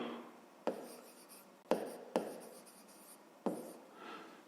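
Pen writing out a fifth-grade math exercise on paper, with four sharp taps and short scratchy strokes in an uneven rhythm, close and quiet, no talking.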